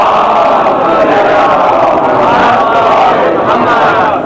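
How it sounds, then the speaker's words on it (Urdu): A large majlis crowd chants salawat slogans in unison, a loud, continuous roar of many voices sustained throughout without a break. "آپ اتنے نعرے لگاتے ہیں نا، اتنے نعرے لگاتے ہیں"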